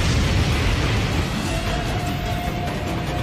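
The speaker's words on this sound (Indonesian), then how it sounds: "Sementara Mang Hojun sudah bersiap untuk menyulutnya demi memicu ledakan besar guna membakar tim Dewa Iblis" Large blast of ignited oil set off to burn an opposing team in an animated series, a loud continuous roaring rumble that fills the whole stretch with a faint whistling tone partway through.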